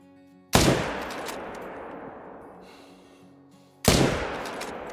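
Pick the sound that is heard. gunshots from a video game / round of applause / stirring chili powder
gunshots from a video game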